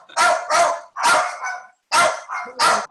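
Several dogs bark in loud, close bursts, about five sharp barks in quick irregular clusters with short pauses between them.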